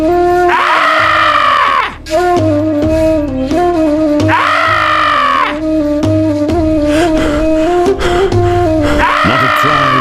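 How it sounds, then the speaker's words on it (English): A warrior in an audio drama lets out long, anguished screams of pain, repeated several times and very loud, over a droning, swelling musical score. "Then he screamed."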